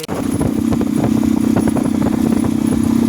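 A motorcycle engine runs steadily and close by for about three seconds, a continuous throaty drone with light mechanical clatter and no clear fade.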